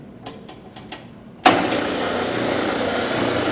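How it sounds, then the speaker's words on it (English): A disk sander motor switches on with a sudden loud onset and then runs at a steady, even whine nearby, preceded by a few faint clicks and taps. "Turn on the machine."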